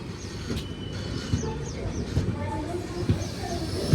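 Steady low rumble inside a moving sleeper-class train carriage, with periodic rhythmic clunks from the wheels and faint chatter.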